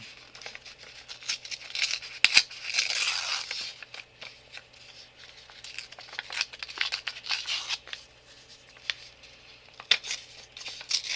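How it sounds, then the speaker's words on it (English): Paper being torn by hand for a glue book craft project, a series of close, crisp rips and crinkles with a sharper burst of tearing early on, then scattered rustling. "I love the sound of tearing paper."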